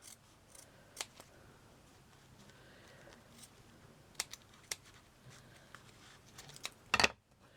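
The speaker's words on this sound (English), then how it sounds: "I'm going to cut that off, because that isn't what I was after" Scissors snip cotton thread from grosgrain ribbon while making a flower, a few quiet isolated cuts spaced out in a hushed room, with a sharper cluster of snips near the end.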